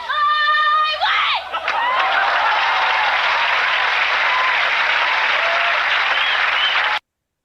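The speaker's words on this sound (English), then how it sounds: "No, audience, don't applaud. Why are you applauding?" A TV studio audience bursts into loud, sustained applause after a sung line fades out, steady clapping filling several seconds with a few faint whoops mixed in before it cuts off abruptly.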